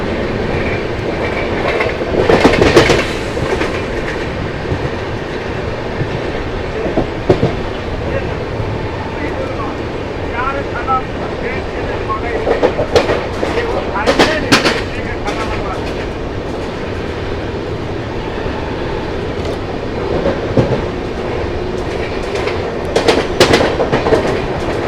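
Bengaluru–Guwahati superfast express (Kaziranga Express) running on tracks, a loud continuous rumble and rattle of the coaches with recurring clickety-clack wheel bursts, heard from close by inside the train.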